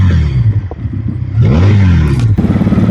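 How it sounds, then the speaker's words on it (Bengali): A Regal Raptor Spyder V-6 250-RR FI motorcycle engine runs close by with a steady harmonic drone, then revs up sharply near the middle and settles back into a strong, rumbling idle, with no talking. "আমরা বাইকের সাউন্ড শুনি"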